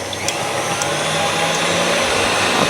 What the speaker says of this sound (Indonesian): Kocok pakai kecepatan tinggi, kata Mbak Inul selama 6 menit.